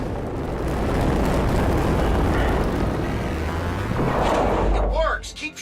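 Phasers fire at vents in a Star Trek video game, adding roaring, sustained blasts and whooshing energy over dense game noise. The roar cuts off near the end, leaving a few sharp chirping tones.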